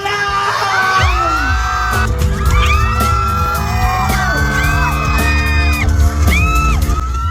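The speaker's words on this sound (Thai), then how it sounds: "ทุกคนเสียงดังมากเสียงกรี๊ดดังสุดๆเลยล่ะค่ะ" A large crowd screams and cheers loudly and continuously at a Samsung S25 series launch event, with high-pitched shrieks and whoops rising over a dense roar.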